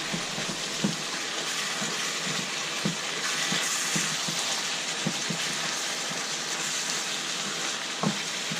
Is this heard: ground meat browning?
yes